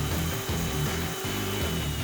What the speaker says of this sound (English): use the carbide hole saw bit and drill all 57 holes to its final size